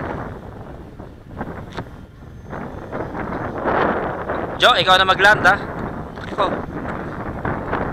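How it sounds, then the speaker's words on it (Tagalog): Strong wind buffets the microphone in heavy gusts and rumbles while people talk, with a brief shrill chirping burst partway through, outdoors during a Bixbi 3 maiden flight. "Malakas na talaga hangin."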